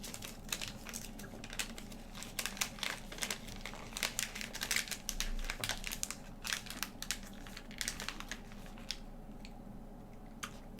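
Crinkling and crushing of a plastic pet treat package that cannot be resealed, a steady stream of sharp crackles fairly close, with no talking.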